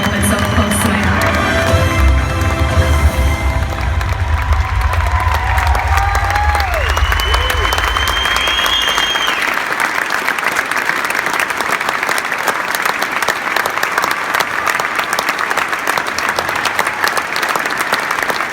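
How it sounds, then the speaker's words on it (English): Loud, continuous audience applause with some cheering rolls on for over eighteen seconds at a gala, while music and sustained tones fade under it early on. "another round of applause"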